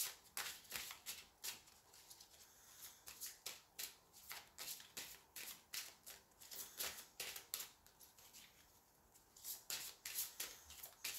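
Large oracle cards being shuffled by hand, a quiet run of crisp papery riffles and slaps repeating in irregular bursts throughout, close to the listener, with no talk.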